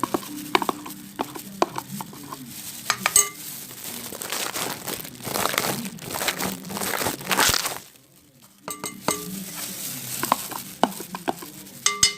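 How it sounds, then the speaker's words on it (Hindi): Milk cream being stirred with a wooden spoon in a pan while it melts down for ghee, giving soft scraping and crinkly sizzling over about twelve seconds, with a brief near-quiet gap before the stirring resumes. "अब हम इसको लकड़ी के चम्मच से अच्छी तरह से मिक्स करेंगे।"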